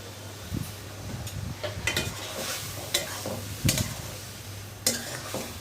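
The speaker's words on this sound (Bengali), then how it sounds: "আমি ভালো করে কষিয়ে নিচ্ছি।" Taro and prawn curry with green chillies sautéed in a pan: repeated close spatula scrapes and knocks against the metal come in an uneven rhythm over a low sizzle.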